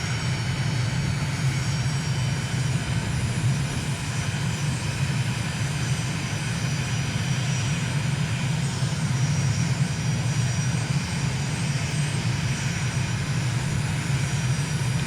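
Propeller airplane engine droning steadily while the aircraft approaches the runway at about 1,000 feet and slow speed, a constant loud cabin hum throughout with no break.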